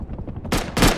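Two loud, sharp gunshots from the survival video game Rust crack about a quarter second apart, each one ringing broadly over softer rattling footsteps or movement.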